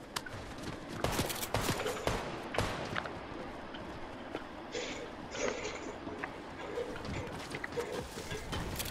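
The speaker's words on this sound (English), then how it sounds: "someone is shooting at me" Gunfire in Fortnite, a cluster of sharp cracks early on followed by scattered fainter shots and clatter across the stretch, with no talk over it.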